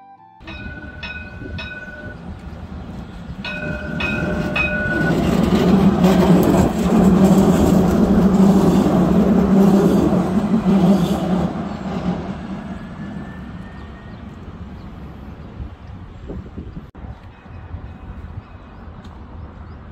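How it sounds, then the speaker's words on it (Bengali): A Dubai tram approaching and passing, a broad rumble swelling to a loud peak mid-way then fading, preceded by a few short bright bell or signal tones at the start. "চলো তোমাদের এখানকার ট্রামের আওয়াজটা শোনাই"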